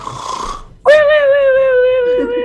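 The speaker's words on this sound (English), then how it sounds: "So you can just hear the really obnoxious snoring." A loud, drawn-out rasping snore from a video game character, with a strong tonal buzz, preceded by a softer breathy sound, close and alone.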